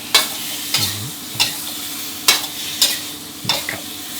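Onion flowers stir-fried in a pan over high heat, a soft continuous sizzle broken by several sharp scraping strokes of a spatula at close range, with no voices.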